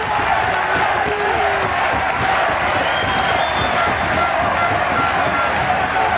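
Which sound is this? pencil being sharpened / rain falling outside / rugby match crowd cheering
rugby match crowd cheering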